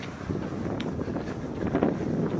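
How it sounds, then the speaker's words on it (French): Strong wind buffets the microphone in uneven gusts during an outdoor race start in Témiscamingue, a rough, blustery roar with no voices. "Mais le vent est déjà fort."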